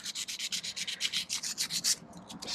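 Quick rhythmic strokes of 240-grit sandpaper worked by hand over a 1995 Corvette C4 overflow tube part, about fifteen even rubs close by, slowing near the end, no talk.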